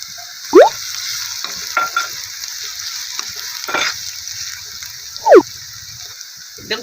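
Onion and crushed garlic frying in oil for mooli bhaji, a soft steady sizzle with two sharp scraping stirs of a spoon against the pan.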